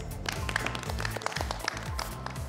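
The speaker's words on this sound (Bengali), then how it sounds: "সবাই সবার জন্য একটা হাততালি দেই" An audience at a beauty reality-show competition applauds briefly, a soft patter of clapping spread under loud background music with a steady low beat.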